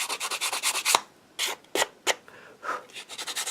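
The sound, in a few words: sanding excess material back off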